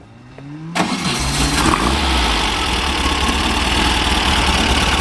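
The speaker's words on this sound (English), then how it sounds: "We'll go ahead and fire this one up for you." A 1961 Volkswagen Beetle engine with a sport exhaust cranks briefly, catches with a loud burst, then settles into a steady, rumbling idle close by.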